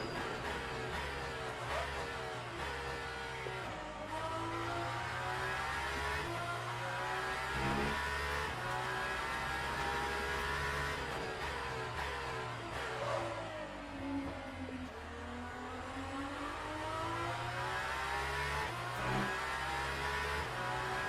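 A BMW race car engine in a racing video game revs hard and continuously, pitch climbing and dropping through repeated gear shifts, steady and fairly close with no voices.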